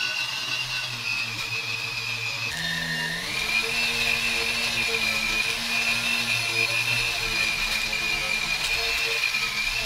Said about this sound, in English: the ring gets really hot whenever you're polishing it